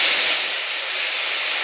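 Ground spice paste hits hot oil with fried cumin and bay leaf, bursting into a loud sizzling hiss that eases slightly into a steady spatter.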